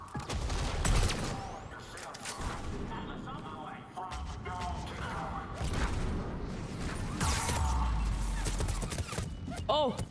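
Mass Effect 3 combat gunfire, a dense volley of sharp shots and crashing impacts spread across the clip, loud and close, with a voice speaking over the firefight at points.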